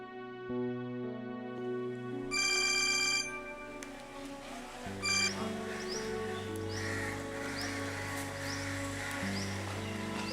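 A phone rings with an incoming-call ringtone, a melodic electronic tune repeating steadily and clearly in a quiet room, with a few sharper chirps over it.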